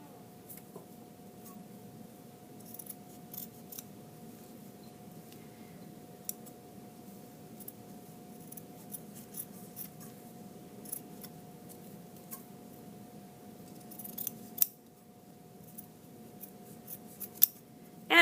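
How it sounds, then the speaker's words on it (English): Scissors snip through a piece of felt while cutting out a stuffed-animal pattern piece, faint scattered clicks and snips over quiet room hum. "I'm going to take scissors or shears and I'm just going to cut it out"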